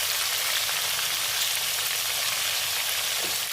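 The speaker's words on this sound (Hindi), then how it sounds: "8 से 9 मिनट हो चुके हैं इनको फ्राई करते हुए।" Chicken pieces frying in a pan after eight to nine minutes, turned golden on both sides for an Afghani chicken gravy, give a steady, dense sizzle that holds evenly close by with no talking.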